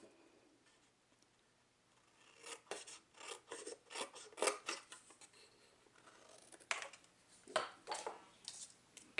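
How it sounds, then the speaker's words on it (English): Metal snips cutting through a paper banner for a watercolor card, giving a series of short, crisp rasping snips in uneven bursts, close and moderately loud against a quiet room. "just going to use my snips and cut this out."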